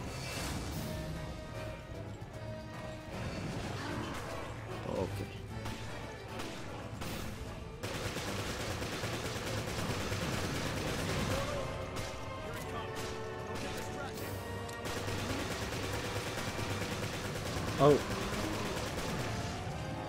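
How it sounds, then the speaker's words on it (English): Rapid machine gun fire rattles through a Resident Evil Revelations co-op match in dense bursts, mixed with other game effects and impacts and one sharp louder hit near the end. "My machine gun, which is second best, which has 313 ammo."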